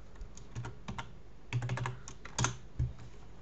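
Keys clack on a computer keyboard in short irregular bursts of typing, close and fairly quiet, with brief pauses between clusters of keystrokes.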